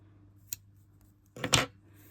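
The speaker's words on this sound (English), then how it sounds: "this is where you cut your yarn" Scissors snip through yarn at a crochet project, one faint click early on, then a single louder, close cut with no talking over it.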